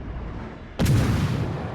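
Naval artillery from the cruiser Pozharsky fires on a target in World of Warships Legends: a single sharp, loud cannon report cracks mid-clip, then rolls into a deep booming rumble over steady low background noise.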